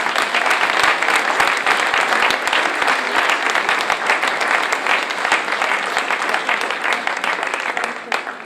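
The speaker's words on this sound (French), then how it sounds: "Sous vos applaudissements." Audience applauding at a town medal ceremony during New Year's greetings in Tarnos, a dense, steady wash of many hands clapping that holds loud throughout without a break.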